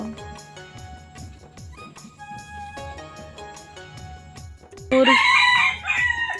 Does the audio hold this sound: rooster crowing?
yes